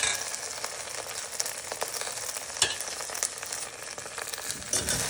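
Okra sizzles steadily in hot oil with green chillies, tomato and tamarind, a dense crackling fry with occasional sharper spatters and stirring scrapes, close and continuous.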